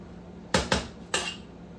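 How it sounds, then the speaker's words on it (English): A spoon knocking against a pot of eggplant chili during stirring: three sharp metallic clinks, close and distinct, the last ringing slightly longer, with no voices. "Just come back and give it a stir."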